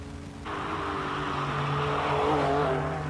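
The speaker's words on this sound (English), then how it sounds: "Beautiful sounding car as well" Classic race car engine climbing the Simola hill climb course, a loud sustained roar that starts abruptly and holds steady with harmonic engine tones, rising slightly toward the end, with no talk over it.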